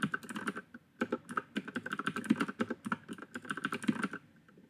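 Rapid, uneven clatter of keys on a computer keyboard as account details are entered for SFTP server software, close and steady with brief pauses, no voices.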